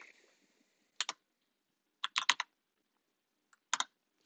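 Short bursts of typing on a computer keyboard while entering text for a message board display, with clusters of quick clicks separated by pauses, fairly close and clear with no talking.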